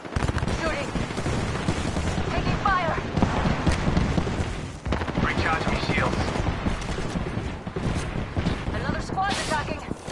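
Sustained, busy gunfire in a multiplayer shooter video game, a dense loud stream of shots and battle noise throughout, with voices talking intermittently under it.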